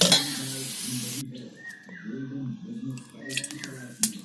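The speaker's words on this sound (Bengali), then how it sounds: "কড়াইতে পরিমাণ মতো তেল দিয়ে তার মধ্যে শুকনো লঙ্কা ও তেজপাতাটা ফোড়ন দিয়েছি।" Dried red chillies and bay leaves sizzle loudly in hot oil in a wok for a moment, then the frying drops low beneath a person talking, with occasional light utensil clinks.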